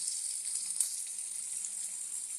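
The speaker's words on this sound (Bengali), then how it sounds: "এখানে আমি মাছগুলো ভেজে নিচ্ছি" Rohu fish pieces frying in hot oil, a steady close sizzle with dense crackling throughout and no voices.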